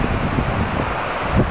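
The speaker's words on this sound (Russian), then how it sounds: "Северный ветер разгулялся" Strong north wind roars steadily against the microphone, a continuous rushing noise with slight gusts toward the end.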